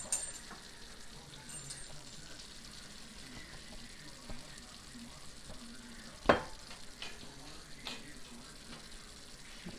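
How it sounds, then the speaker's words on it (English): Cooked fettuccine being stirred with tongs in a pan with crumbled bacon for carbonara, giving a faint, soft sizzle and wet shuffling with one louder clatter partway through. "just stir that fettuccine in there"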